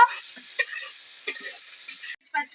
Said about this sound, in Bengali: লাল করে আমি পেঁয়াজটা ভেজে নেব